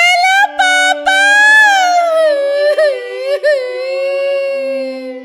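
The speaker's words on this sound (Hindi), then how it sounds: "अरे बिटिया काहे रो रही हो?" A young daughter sobs and whimpers over the phone, her wavering, high-pitched crying broken by short catches of breath, loud and close with no one speaking over it.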